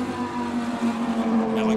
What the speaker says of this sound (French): parce que là c'est le gros moteur là